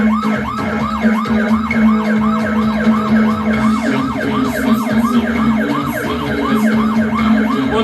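An emergency siren wails in a fast repeating up-and-down cycle, loud and close, with a constant low drone beneath it and no pause for the whole stretch.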